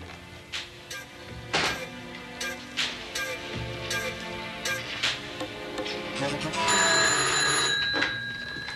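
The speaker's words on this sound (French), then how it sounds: "Tu entendras le téléphone de la cuisine." A telephone rings in a kitchen heard from another room, with several distinct bursts of bell ringing and clicks over a faint background, then a louder continuous ring near the end.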